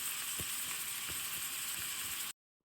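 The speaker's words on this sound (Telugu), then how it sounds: "ఇప్పుడు కరివేపాకు, ఇప్పుడు పచ్చిమిర్చి వేసి" Curry leaves and green chilies sizzling in hot oil, a loud steady crackling hiss with a few faint pops and soft utensil taps, cut off abruptly near the end.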